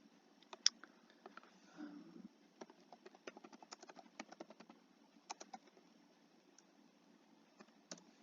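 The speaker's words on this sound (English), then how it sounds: "I'm typing in an abbreviated version there" Fingers tapping on a computer keyboard in irregular bursts of soft, close clicks, quiet throughout with brief pauses between runs.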